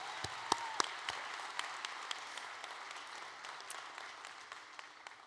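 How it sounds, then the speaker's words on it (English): Audience at a school district graduation ceremony giving a round of applause, fairly faint and distant, with a few sharper individual claps standing out from the patter. "how about another round of applause for those two wonderful young adults?"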